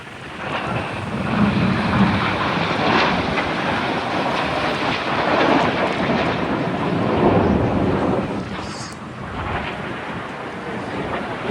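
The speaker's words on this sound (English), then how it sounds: "Each aircraft now pulling hard away from each other, pulling up to 60" Red Arrows jet aircraft roar through an airshow display at Blackpool, a loud, broad rumbling wash that swells and fades slightly, with wind buffeting the microphone outdoors.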